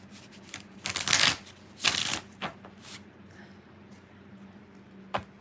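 Tarot cards riffle-shuffled up close in a couple of sharp papery bursts, followed by lighter taps and a final brief snap against a quiet room.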